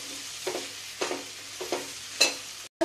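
Chopped capsicum and potato get stirred in a pan for a dry sabzi with crushed peanuts, several rhythmic spatula scrapes and taps over a soft sizzle, close by and unvoiced.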